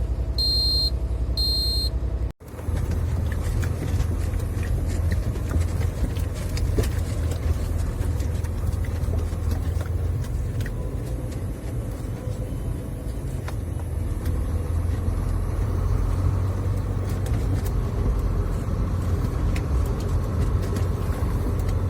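A concrete truck pulls out of a factory yard, its engine a steady low rumble with dense broadband road and cabin noise. A few short electronic beeps sound at the very start, then a brief dropout.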